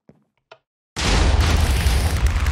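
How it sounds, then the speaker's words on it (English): Video game explosion: after two tiny clicks and near silence, a sudden loud boom bursts in and rolls on as a heavy, sustained low rumble and roar until the end. "I want more explosions."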